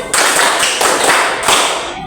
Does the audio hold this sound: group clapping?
yes